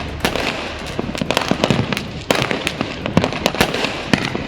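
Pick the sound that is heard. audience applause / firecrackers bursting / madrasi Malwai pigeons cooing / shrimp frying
firecrackers bursting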